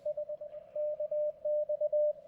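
A steady single-pitched tone keys on and off in quick bursts, like Morse code from a German amateur radio station heard over a receiver with a loop antenna, moderately loud with faint static beneath.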